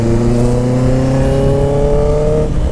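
Honda CB 650F motorcycle fitted with an Atalla 4x1 full stainless-steel exhaust, its engine revving steadily at close range and loud, the note sustained and slightly rising before cutting off near the end.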